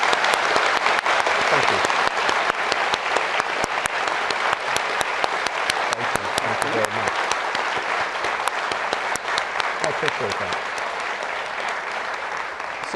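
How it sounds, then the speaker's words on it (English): Steady, dense applause from a law school audience in Washington DC honoring the Chief Justice, lasting throughout, with a man briefly thanking them over the clapping. "Round of applause for the Chief Justice."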